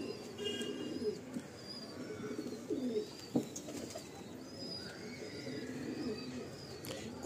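A light-bodied loft pigeon coos in repeated low, throaty phrases near the listener, while faint chirps from other birds drift in the background.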